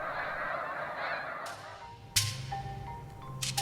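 A flock of snow geese settling on water for the night honks in a dense, overlapping chorus that thins out, leaving a few sharper individual honks.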